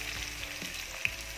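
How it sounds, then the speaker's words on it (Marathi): Chicken hits hot oil for a Malvani-style tempering, giving a steady, soft sizzling hiss with one sharp pop near the end, heard alone without speech. "इथे आपण चिकन फोडणी टाकणार आहोत"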